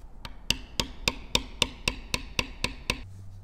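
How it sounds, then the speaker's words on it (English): A beveler tool struck with a mallet to bevel tooled leather for a feather design: about a dozen sharp, evenly spaced taps in quick steady rhythm, close and clear, with no voices. "we'll bevel this other side just the same way"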